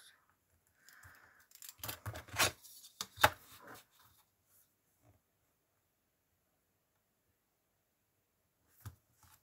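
Scissors snipping through paper while crafting a paper birdcage: a short cluster of crisp cuts and rustles in the first few seconds, then near silence apart from one faint click at the end.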